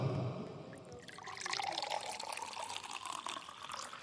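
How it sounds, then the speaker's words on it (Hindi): Water poured into a magnetic water ionizer machine during an alkaline water demonstration, a soft close trickle and splash that swells after a brief quieter start and runs steadily, fairly faint, with no talking. "तो ये पानी मैंने डाला और इस मशीन से गुजारा"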